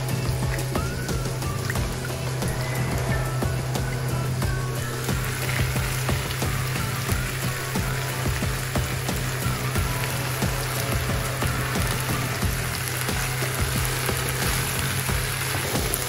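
Broccoli hits a hot pan of frying food, giving a steady, loud sizzle and crackle that continues without pause under a constant background hum.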